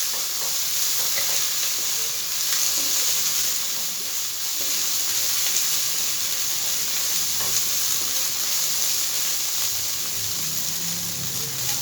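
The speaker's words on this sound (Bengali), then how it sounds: "এটা একটু ভাজা ভাজা করবো।" Ginger paste, cumin paste, chili powder and turmeric frying in oil in a pan, a steady close sizzle with a few stirring scrapes, continuing evenly throughout with no talk.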